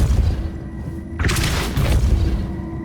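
A Depulso spell cast in the Nintendo Switch version of Hogwarts Legacy lets out one loud booming blast partway through, set over constant game background noise.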